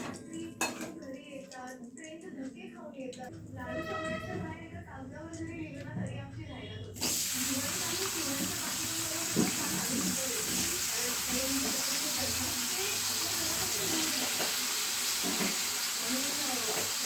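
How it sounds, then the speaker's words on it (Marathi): Mustard seeds dropped into hot oil burst into a loud, steady sizzle that runs on unbroken after some clattering of utensils, with a voice speaking briefly over the first part. "मस्तपैकी तेलामध्ये मोहरी टाकली."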